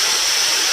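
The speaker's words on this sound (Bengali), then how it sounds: "এবারে এটার মধ্যে দিয়ে দেবো 2 কাপ জল" Two cups of warm water poured into a hot pan of frying banana stem: a loud, steady rushing hiss and sizzle, close and continuous through the short moment.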